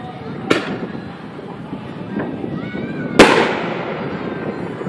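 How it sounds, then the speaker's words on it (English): Two sharp fireworks bangs from New Year's celebrations, a moderate one early and a louder artillery-shell burst a few seconds later with a trailing crackle, over steady outdoor background noise and faint distant pops. "Oh, one's about to go off. Artillery shell."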